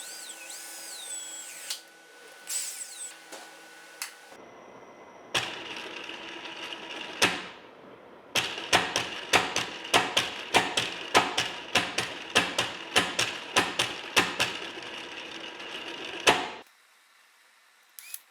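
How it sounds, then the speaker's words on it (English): A 3D-printed high-power robot actuator spins under motor drive, giving short, drill-like whirring bursts that start and stop in quick succession, with a longer whine earlier on, all close and fairly loud in a quiet room. "now that I've spun the 3D printed actuator to make sure that it spins"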